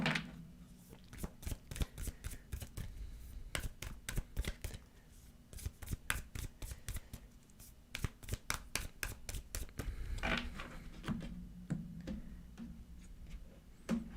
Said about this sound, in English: Let's pull one card from the Sacred Destiny Tarot deck here and see what we get for you